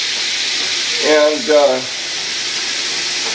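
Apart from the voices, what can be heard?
steak sizzling as water is added to pan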